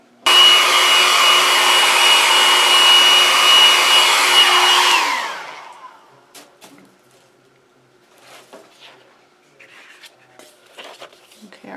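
A hair dryer blows steadily and loudly on paint sealer coating a canvas, a constant whirring roar for about five seconds before it switches off and winds down, leaving quiet handling noises.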